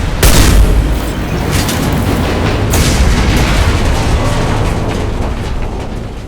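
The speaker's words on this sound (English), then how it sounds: "Firing an impact shot!" Impact shot fired in Mass Effect 2, a loud booming blast at the start followed by sustained rumbling, crackling combat noise with further bursts throughout.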